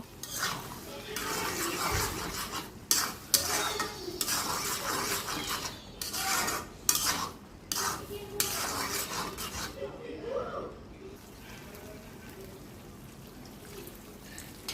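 A utensil stirs muri ghonto, a Bengali fish-head and rice dish, in a frying pan. Sizzling runs under repeated scraping and clinking, with quieter frying toward the end.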